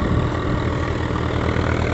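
Close up, a Swaraj 744 XT tractor runs in first gear with a steady, heavy diesel chug, rough and continuous and with no speech over it.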